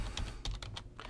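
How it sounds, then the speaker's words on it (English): Typing a password on a computer keyboard at a school workplace: a short burst of about six crisp, close key clicks in an uneven rhythm, with no talking. "Oops, got to type your password correctly."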